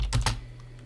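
Fingers tap a computer keyboard in a quick burst of two or three close, crisp keystrokes, then stop, with a faint hum beneath and no speech.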